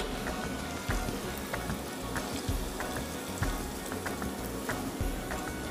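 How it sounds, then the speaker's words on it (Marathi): Spices sizzle in hot oil for a Marathi phodni tempering, with a steady crackling fry and occasional sharper pops, moderately quiet and without talk. "चांगली फोडणी तयार झाली पाहिजे"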